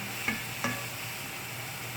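Onion and garlic sizzle steadily in a hot pan as a utensil scrapes through them twice, a soft continuous hiss close up.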